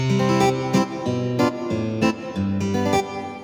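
Electric guitar playing a short run of ringing picked notes and chords, each struck note decaying into the next at a relaxed pace.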